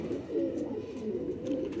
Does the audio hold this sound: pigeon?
yes